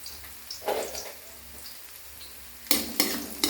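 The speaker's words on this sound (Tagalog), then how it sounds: "gigisa ko muna yung giniling sa sibuyas at saka sa bawang" Ground meat sautés with onion and garlic in a pan for lumpiang shanghai filling, with a soft sizzle under scraping spatula strokes and a burst of louder stirring clatter near the end, heard close with no talking.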